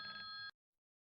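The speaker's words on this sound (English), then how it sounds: "Yeah, that was my phone." A telephone rings once, a steady electronic double-tone ring lasting about half a second, fairly loud and alone, then cut off into silence.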